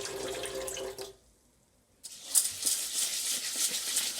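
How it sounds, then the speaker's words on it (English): Tap water runs and splashes into a sink while Japanese sushi rice is rinsed, a steady close hiss that stops for about a second and then returns with louder splashing. "Add second water, mix thoroughly, then drain."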